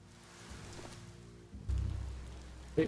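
Rain falls in the Biomutant video game as a soft, steady patter that thickens into a louder rumbling wash partway through, with no voices over it.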